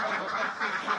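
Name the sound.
ducks quacking on a duck farm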